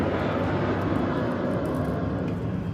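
A Southwest Airlines airplane passes overhead, its engine a broad, steady low roar that fills the whole stretch without fading.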